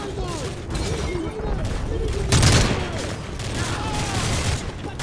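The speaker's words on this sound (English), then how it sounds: "Frost, Prince, lay down cover fire." Sustained gunfire rattles through a firefight in the Call of Duty: MW3 campaign, bursts layered with a heavy boom midway and battlefield clutter, with shouted voices over the shooting.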